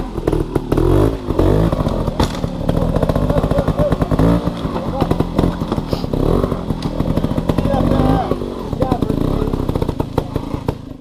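A trials motorcycle engine works hard through a riding section at a mototrials event in Munnsville, New York, loud and close with steady revving and rough, pulsing bursts throughout.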